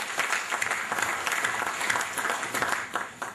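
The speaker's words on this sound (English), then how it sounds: "I would like to give him a round of applause for his support in bringing PAMA and PAAPAM together" An AGM audience gives a round of applause for the outgoing PAMA chairman, a steady moderate wash of many hands clapping at some distance in a hall, lasting a few seconds without speech.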